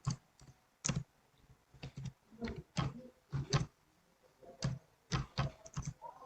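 Keys clacking on a computer keyboard in quick irregular bursts and short runs separated by pauses, close and clear with no one speaking.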